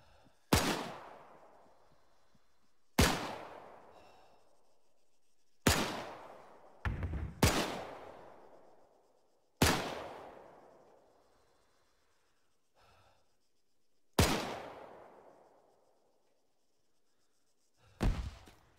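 Gunfire and grenade blasts in a World War II PvP tank game: about seven sharp, loud explosive bangs spaced a few seconds apart, each with a long decaying rumble tail, with no talking.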